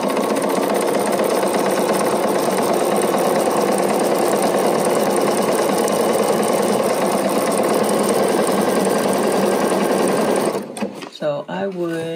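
Sewing machine running continuously at steady speed, sewing a decorative stitch over several laid threads, a loud even mechanical whir that stops near the end as a voice begins talking.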